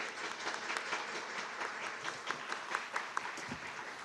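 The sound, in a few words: audience applause at closing ceremony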